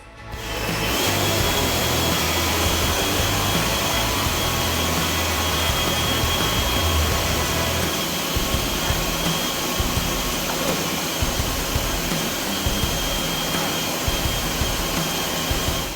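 Cordless DeWalt and EGO leaf blowers run at full power, a loud, steady roaring whoosh with a high whine, continuous for the whole stretch and slightly rougher toward the end, with no talking.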